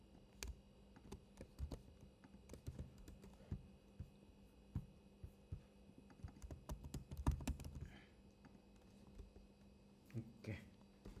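Code being typed on a computer keyboard, irregular close clicks and clatters of keys in bursts with short pauses, over a faint steady hum.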